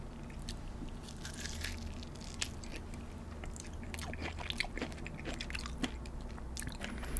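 Close-up chewing and crunching of Cajun-seasoned corn, with repeated soft bites, wet squishes and small crunches over a low steady hum.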